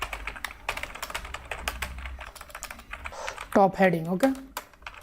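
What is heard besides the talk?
computer keyboard typing HTML code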